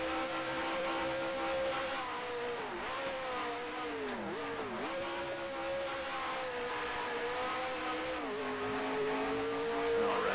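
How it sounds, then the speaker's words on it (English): A Grand Prix Legends race car on cold tires slides through corners, its engine droning loud and continuous with pitch rising and dipping through several gear and throttle changes, plus a faint scrubbing tire edge and no talk. "Trying to slide the car a little bit just to help warm up those tires."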